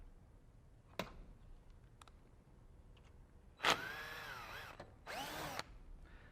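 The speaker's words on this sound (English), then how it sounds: "remove these 2 screws from each side" Screws being removed from a Carrier OptiClean air scrubber with a power drill, two short whirring bursts of the motor after a few faint clicks, close in a quiet room.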